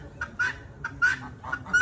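Sebastopol geese honk in a short series of about three or four loud, nasal calls close by, with quieter calls between them.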